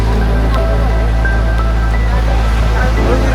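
Water pours steadily near a high-altitude lake around Tawang at about 13,700 feet in cold weather, a loud, continuous rushing roar with deep rumble that stays unbroken for the whole stretch.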